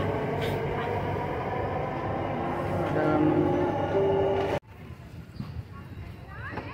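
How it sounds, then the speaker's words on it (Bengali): A metro train rumbles steadily past near Cubbon Park in Bangalore, a loud continuous roar that cuts off abruptly partway through, leaving quieter outdoor ambience. "মেট্রো ট্রেন আর আছে"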